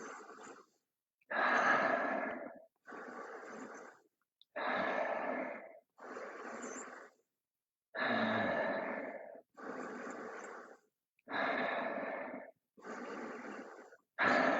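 Slow, deep breaths during a yoga cool-down, each long inhale and exhale separated by short pauses, close and alone in a quiet room.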